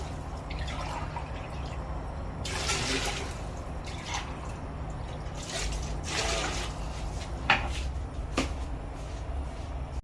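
Water poured from a glass into a cooking pot for ghee rice, a steady splashing, trickling stream with occasional drips and clinks, close by and fairly loud.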